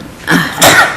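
A single sneeze bursts out over a quiet indoor conversation, a short sharp inhale-and-release of about half a second, close and fairly loud, with no speech in the clip itself.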